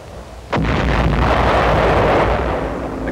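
Naval guns bombard enemy shore installations in 1945 wartime combat newsreel footage: one sharp heavy blast booms out and then a long rumbling roar, loud and close, with no voices.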